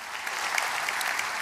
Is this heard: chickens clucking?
no